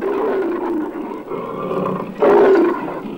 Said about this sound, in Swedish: Wow, vilka hungriga lejon.